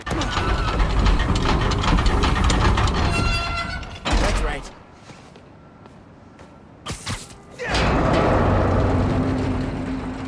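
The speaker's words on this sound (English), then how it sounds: "We've got trains on the tracks." Rumbling train machinery on tracks in Spider-Man Miles Morales, loud and continuous, then dropping away before heavy mechanical surges and sharp clanks return, with a voice speaking over it.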